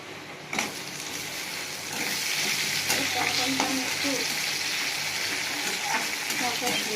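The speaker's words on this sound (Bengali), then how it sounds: "পেঁয়াজটা ভাজা ভাজা করে নিয়েছি, এবার আমি টমেটো দিয়ে দেবো" Tomato and onion fry in hot oil with a steady close sizzle, and a few stirring scrapes and light knocks of a spoon against the pan.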